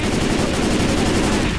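Continuous rapid gunfire in Left 4 Dead 2, players shooting at the Tank on a rooftop escape; a dense, steady rattle of automatic weapons fills the whole stretch without pause.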